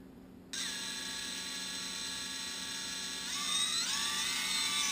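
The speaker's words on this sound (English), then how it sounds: "You can kind of hear the motors ring a little as they switch." A steady high electric motor whine from a 3D quadcopter's reversible motors starts abruptly, then its pitch slides and shifts partway through as the motors switch from reverse to forward, with a faint ringing.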